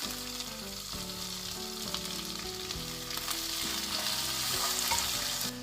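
Ginger-garlic paste and tomato fry and get stirred in a pan for a beef roast, with a steady close sizzle and scraping stir strokes, alone under loud background music with no talking.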